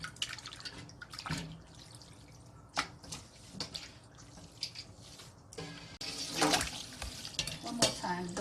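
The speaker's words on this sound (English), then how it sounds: "You have to rinse cold water immediately to avoid the noodles are blowing." Cold tap water runs over cooked glass noodles for vegetarian japchae in a kitchen sink, with splashing, dripping and clinking close by and a voice speaking now and then.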